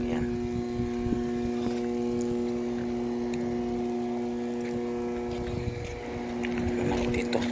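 A heavy-duty motor runs steadily with a low, constant hum and strong tonal drone, close by, while a person talks over it.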